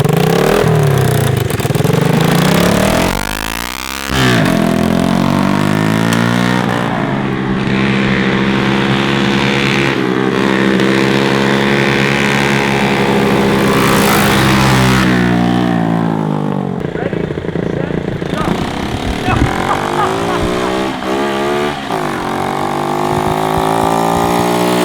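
A Honda CT70 minibike engine runs loud and close, idling steadily and then revving up and down several times with a rough, buzzy tone that goes on throughout.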